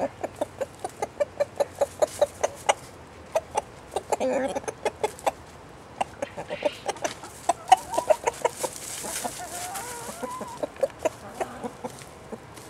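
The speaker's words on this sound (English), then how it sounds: "You're a good rooster, Mr. Rooster." Chickens and a rooster cluck in a steady run of short, sharp calls, with a few louder bird calls and brief rustling mixed in close by in a back garden.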